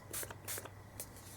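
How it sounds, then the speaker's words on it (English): Shimmer spray misted onto paper flowers in short hissing bursts, two strong sprays followed by a couple of lighter ones, quiet and close against a faint background hum. "So I'm going to cover this window and spray a little bit of the shimmer"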